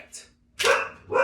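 A dog barks indoors, a lighter yip followed by a couple of loud, close barks in quick succession.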